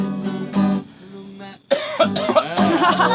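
A loud cough breaks out between stretches of close talking, with voices continuing right after it.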